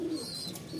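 Pet pigeons coo in a low, soft murmur from nearby, a brief continuous throaty burble with faint background noise and no voices.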